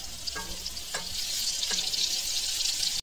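Pointed gourd frying in a pan for a vegetarian paneer dish, a steady close sizzle with a few soft stirring clicks, no talk.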